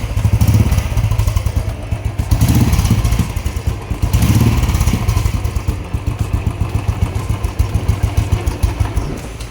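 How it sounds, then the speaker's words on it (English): A Royal Enfield Thunderbird motorcycle engine fitted with a BMC air filter runs steadily close by, its deep, loud thumping beat holding throughout with a couple of brief revs. "here's the sound after installing the BMC air filter"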